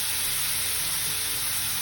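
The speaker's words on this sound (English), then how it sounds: "now we are going to fry these onions" Chopped onions frying for bread upma, a loud, dense, continuous sizzle heard up close with no pauses.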